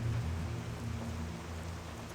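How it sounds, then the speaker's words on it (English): In World of Warcraft, a dense, even patter of rain falls with a soft low rumble underneath, holding steady at moderate volume with no talking. "It's now raining and it now looks totally different."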